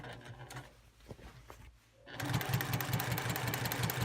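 A sewing machine stitches a straight seam along a quilt, starting up after a quiet stretch and then running at a steady, fast, rhythmic whir for the last two seconds, close and alone.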